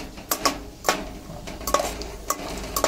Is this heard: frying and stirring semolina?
yes